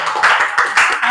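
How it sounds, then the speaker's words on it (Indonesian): A short round of classroom clapping from a group of students, several quick bright claps close by. "Oke, tepuk tangan semuanya."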